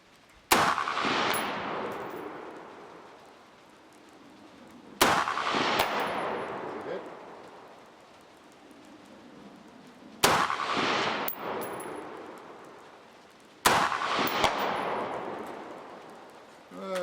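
A Keltec SU16F rifle fires taped Norinco ammunition in four loud, sharp reports, each spaced several seconds apart and trailing off in a long, ringing outdoor echo.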